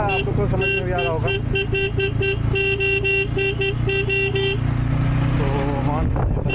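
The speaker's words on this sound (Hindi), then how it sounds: "हॉर्न का आपको तो समझ में भी आ रहा होगा" Horn of a Bajaj Pulsar N250 motorcycle honks in steady, sustained tones across the ride, blended with engine and road noise and a voice talking over it.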